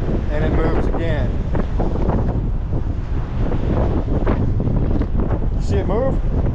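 Strong wind buffets the microphone on a cruise ship deck, a loud continuous roar with gusts, while people talk over it.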